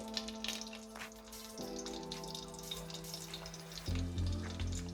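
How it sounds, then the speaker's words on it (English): Two slices of lard and oil frying with smoked pork sausage in a pot over low heat, a steady soft sizzle and crackle throughout with no one talking. "And you leave it on low heat until the pork fat melts."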